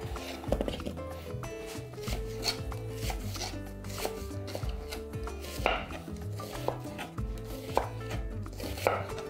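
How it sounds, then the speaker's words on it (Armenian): A knife slices a white onion into thin wedges on a cutting board, giving a steady run of quick, fairly quiet chopping taps close by, with no talking over them. "Սոխը կտրատում ենք փետրաձև։"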